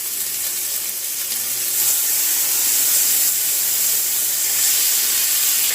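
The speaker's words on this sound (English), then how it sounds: "I'm just gonna saute these in the butter for a couple of minutes" Onions sauteing in butter in a pan give off a steady, fairly loud sizzle and hiss that carries on without break and swells slightly partway through.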